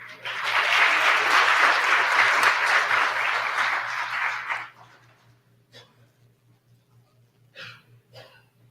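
An audience applauds for honors students at a college honors program ceremony, a loud sustained burst of clapping for about four and a half seconds before it cuts off into quiet, with a few faint sounds after.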